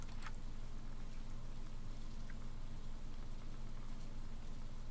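Steady rain in the Stardew Valley video game, a soft continuous hiss and patter held at an even, quiet level without any voices.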